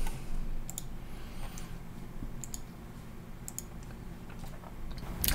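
Typing on a computer keyboard, with sparse clustered key clicks at irregular intervals against a steady low background hum, close and moderately quiet.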